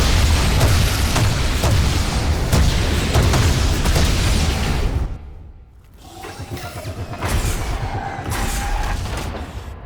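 A power relay exploding in the video game Evolve: a loud, heavy booming blast rumbling for several seconds, then a brief lull before more distant crackling and rumbling return.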